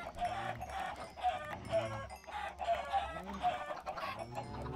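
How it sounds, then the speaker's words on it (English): Chickens in a Minecraft-style modded video game cluck repeatedly in short rhythmic bursts, several overlapping birds, with a rooster-like crow mixed in, loud and close without any talking. "I do occasionally go on my chicken killing spree too"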